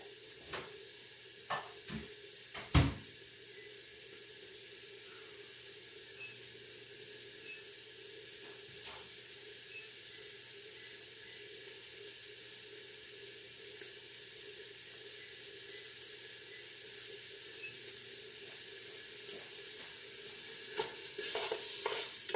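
Food with chopped onions warming in a pan, a soft steady sizzle hissing throughout with a few clinks and stirring knocks early on, faint and close, growing slightly louder near the end.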